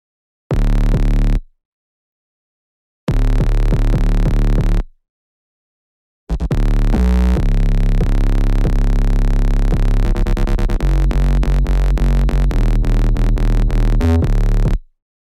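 A distorted saw bass layered with a heavy 808 in a remix plays as a loud electronic bass line, two short phrases followed by a longer sustained passage with rapid rhythmic stutters toward the end.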